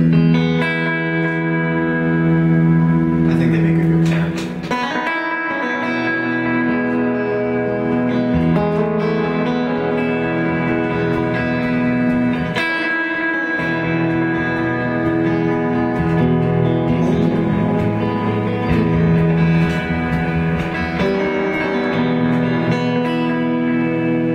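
Dense, sustained guitar tones through a 1776 Effects Multiplex delay pedal with Rub-a-Dub reverb wash together with heavy echo, forming a loud, continuous swirling drone with a few sharp attacks.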